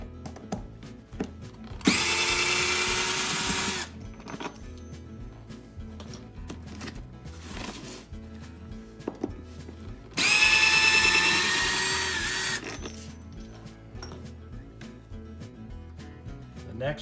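A power drill backs screws out of the seat on a 2008 Ranger bass boat, heard up close in two sustained bursts of high, whining motor noise separated by quieter handling sounds.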